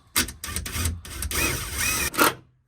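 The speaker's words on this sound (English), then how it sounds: "screw in the hole, look like that. Decent drill driver" A drill driver runs in several short bursts as it drives a screw into a hole in a loft, a close whirring grind with brief pauses.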